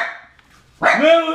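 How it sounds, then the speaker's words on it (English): Dogs bark loudly and close by, following a quieter stretch of voices and bark-like sounds, in a home setting. "If the dogs can be quiet."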